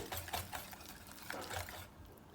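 Potato batter is whisked until smooth in a bowl, quiet rhythmic wet slaps and swishes repeating steadily before easing off at the end.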